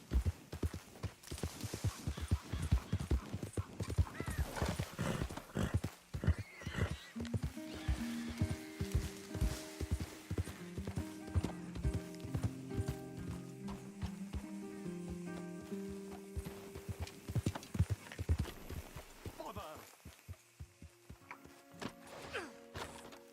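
Horse hooves drum fast and close in a galloping clip-clop in Red Dead Redemption 2, then slow and fade, with a horse whinnying and a few spoken voices toward the end over a musical score.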